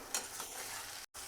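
Spice-stuffed eggplants sizzle in hot spiced oil in a pressure cooker as they are gently stirred, a steady close frying hiss with a brief scrape near the start and a short dropout near the end.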